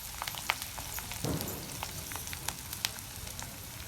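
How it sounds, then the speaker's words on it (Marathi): Sun-dried chopped onion frying in oil for murmura chivda, a soft, steady crackle with scattered pops and a brief stir, fairly quiet. "आता ते तळून घ्यायचं चिवड्यासाठी"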